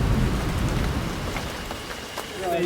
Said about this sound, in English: every year we come here and it pours with rain